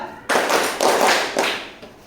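Children clap their hands in a counting game, four firm, evenly spaced claps ringing out fairly close, each with a slight room echo.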